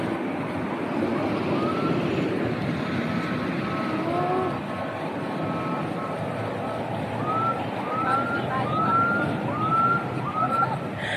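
A police car siren wails over a noisy outdoor background, its rising whoops faint at first, then repeating more clearly in a regular series toward the end.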